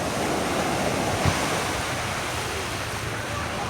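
Sea waves wash in at Mumbai's Chowpatty beach, a steady broad roar of surf with wind buffeting the microphone and one brief thump, with no voices.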